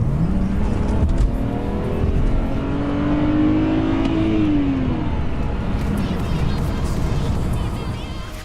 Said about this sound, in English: we've got the car out here on the road, and you can absolutely tell that that has gained some extra horsepower